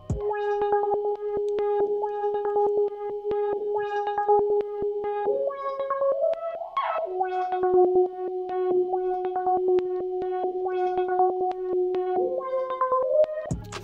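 A synth melody run through a ShaperBox effect plays alone, its sustained tones pulsing with rhythmic choppy movement and a brief pitch swoop midway, repeating notes at a steady pace.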